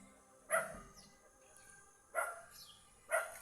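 Three separate dog barks ring out at a distance, spaced a second or more apart, with quiet outdoor air between them.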